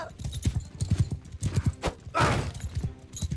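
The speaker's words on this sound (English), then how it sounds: "we are riding a horse that's used only for the purposes of, carrying cargo" Hooves of a cargo-carrying sumpter horse clip-clop in Mount and Blade 2 Bannerlord, a close, rapid uneven patter of thuds with a brief whinny-like burst, heard alone.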